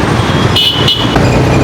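Traffic noise on a city road near a metro station as a booked Ola cab pulls up, a steady engine and road rumble with brief higher-pitched horn toots in the middle.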